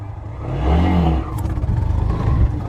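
A motorcycle engine revs up and holds around three to four thousand rpm, a close, loud, rough drone that swells and then stays steady with slight fluctuations.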